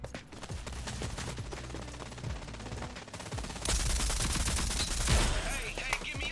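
Rapid SMG gunfire in the shooter game Rogue Company: dense, continuous bursts of close shots with overlapping impacts, growing louder and busier midway, with a voice in the background.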